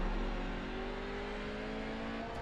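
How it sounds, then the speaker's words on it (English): A Hyundai TCR race car in iRacing holds its engine at the rev limiter before a standing start, giving a steady, loud, buzzing drone with a bouncing limiter edge throughout, and no talking. "pull the clutch all the way up to where we're actually redlining, and we can hear the engine clipping, essentially"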